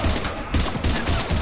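Heavy gunfire crackles in a Mass Effect 3 firefight against husks, a loud, sustained fusillade of overlapping bursts with no pauses.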